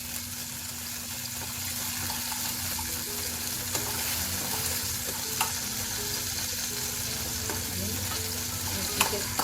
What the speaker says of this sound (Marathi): तुकडे पण घालू आपण हिरव्या मिरचीचे तुकडे फोडणीत परतून घेऊ